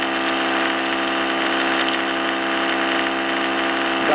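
A small Thomas motor with one coil and four magnets spins near 4000 RPM, giving a steady, loud, continuous hum with a fixed pitch that does not change throughout.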